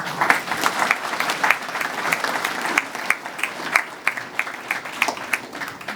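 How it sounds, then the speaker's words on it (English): A modest banquet crowd at Buckeye honouring the 1987–89 Strasburg softball teams gives a steady round of applause, many hands clapping at once at a moderate level, with no voices over it. "Let's give him a little round of applause"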